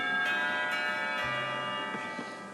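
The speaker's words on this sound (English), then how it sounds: "Oh, the bell." A school bell rings in Katawa Shoujo, a sustained, moderately loud ringing tone with rich overtones that holds steady throughout, with no talk over it.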